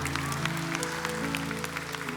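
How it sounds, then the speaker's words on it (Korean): Congregation applauding at a Korean church Sunday worship service after a prayer of blessing for a family with a newborn, steady clapping over sustained organ or keyboard tones, no speech. "박수하겠습니다."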